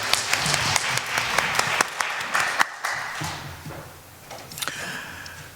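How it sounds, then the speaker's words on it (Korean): A congregation at a Korean Sunday worship service applauds, several sharp distinct claps standing out over the crowd's clapping before it thins and fades out, with a few last claps near the end. "하나님께 영광 박수 올려드리겠습니다."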